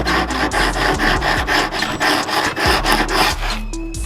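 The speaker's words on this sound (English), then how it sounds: "Just take your sanding block, just go across it a few times" A sanding block is rubbed back and forth across the routed edge of a wooden speaker grill board, loud close rhythmic rasping strokes, about two per second, with no talk.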